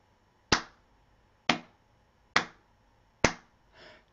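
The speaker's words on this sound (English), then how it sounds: "I'm gonna clap for 4 beats until I'm starting to shout." Four sharp hand claps ring out alone, evenly spaced about a second apart, during a guided Guru Rinpoche guru yoga practice, each a crisp, close slap followed by quiet.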